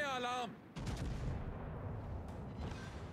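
Explosions in a video game replay: a loud booming blast with dense, sustained rumble and crackle that continues throughout, following a brief tonal game sound at the start.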